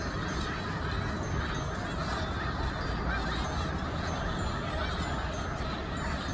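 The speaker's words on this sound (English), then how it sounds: "Look at all of these geese." A large flock of geese honks continuously, a dense, loud wall of overlapping calls with no pauses.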